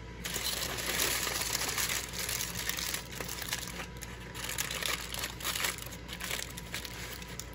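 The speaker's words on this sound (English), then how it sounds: "we're just gonna wrap up our salmon in the foil" Aluminium foil crinkles and crumples continuously as it is folded around salmon for the grill, a close, bright rustling that rises and falls in waves, with no voices.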